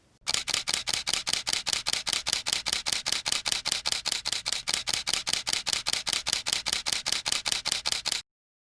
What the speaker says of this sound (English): You know that sound you hear when you click the button to take a picture on a camera?